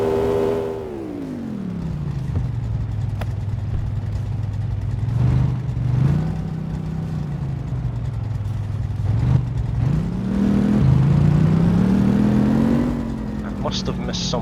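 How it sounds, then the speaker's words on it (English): A truck engine in the video game My Garage hums steadily, its pitch sliding down then climbing again as it revs, continuous throughout with some game sound effects layered on top. "hopefully the sound of the engines isn't overpowering"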